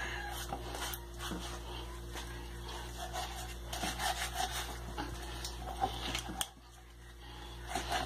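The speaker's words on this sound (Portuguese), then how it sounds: "Só que essa faca não tá cortando, ela tá cortando muito pouco. Porque ela corta pouco, ela fica mastigando." A dull kitchen knife saws and chews through raw chicken, giving close, rough rubbing and scraping strokes in an uneven rhythm, steady for several seconds before a brief pause and a resumption.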